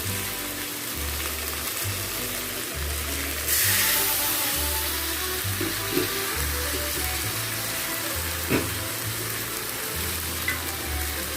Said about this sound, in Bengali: এবারে গুঁড়ো মশলার পেস্টটা দিয়ে দেবো